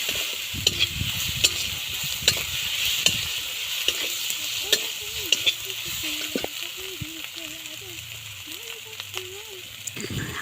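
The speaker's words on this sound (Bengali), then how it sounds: "লঙ্কা গুঁড়ো পরিমাণ মতন দিয়ে দিলাম। নাড়াচাড়া করে নিচ্ছি।" Chili powder frying in oil in a pan for Bengali fish curry, with a steady sizzle under repeated sharp clicks and scrapes of a spatula stirring, and a faint voice murmuring in the background.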